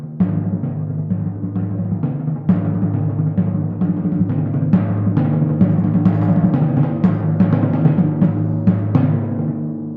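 Timpani play a steady stream of sixteenth-note strokes, the booming low drum tones overlapping into a rolling pulse with clear repeated attacks, fairly loud and alone.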